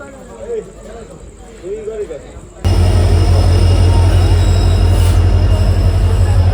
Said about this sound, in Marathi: आमची ट्रेन आली आहे